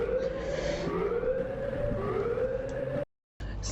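The Siren entity in the horror video game Aperiophobia gives a wailing, rising and falling siren-like howl that fills the clip, breaks off briefly near the end, then resumes.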